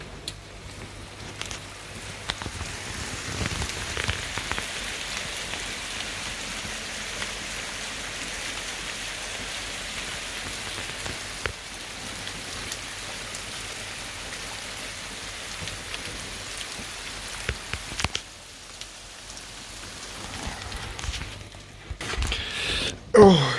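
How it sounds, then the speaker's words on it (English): Steady rain falls across the African bush as a soft, continuous hiss of drops on leaves and ground, holding evenly throughout at a moderate distance, with brief quiet talk near the end. "But it's now started to rain, and it's so tranquil."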